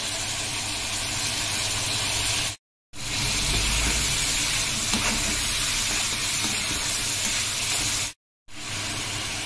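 Marinated Alexandrian-style liver sizzles steadily in a hot pan, a loud, close, continuous frying hiss broken by two short silences.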